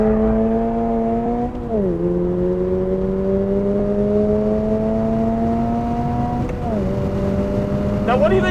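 A 2022 Subaru BRZ sports car accelerates hard, its engine note climbing in a loud, steady tone, dropping briefly at two gear changes before rising again, heard from inside the cabin.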